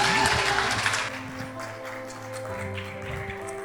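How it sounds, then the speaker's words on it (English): Applause at a wedding reception for the bride's parents, a dense burst of many hands for about a second that drops to a softer, thinning patter with background murmur. "let's give a big round of applause to the parents of the bride"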